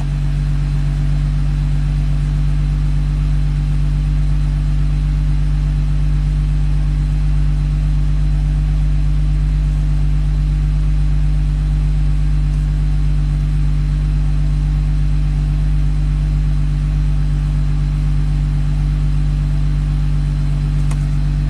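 A Mazda 6 engine with a bad knock sensor idles steadily and loudly up close, a constant low rumble with a deep hum and no change in pitch throughout.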